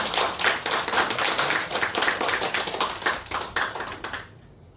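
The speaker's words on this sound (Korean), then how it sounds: "박수 한번 드립니다." A church congregation claps together in a lively burst of hand claps with a loose, quick rhythm, close and fairly loud, which fades out abruptly near the end.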